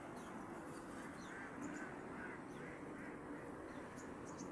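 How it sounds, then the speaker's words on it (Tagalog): A flock of ducks tended by a duck herder in the Philippines, quacking continuously as a dense, steady outdoor chorus with no clear breaks. "Ang hanap buhay ni Consuel Herman, ang pastol ng Itik TV Vlog."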